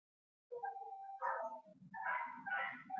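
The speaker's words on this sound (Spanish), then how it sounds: "¿Afuera están llorando esos perros?" Dogs outside whine and yelp in a few short, faint bursts. The whimpering carries from a distance into a quiet room.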